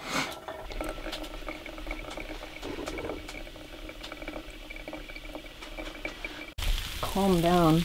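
Bacon and onions, along with green peppers and hash browns, sizzle steadily in a pan inside a tent during snowfall. The frying is close and even, and a wavering high whistling tone rises over it near the end.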